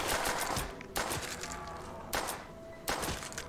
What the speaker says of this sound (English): I can just mag dump these guys.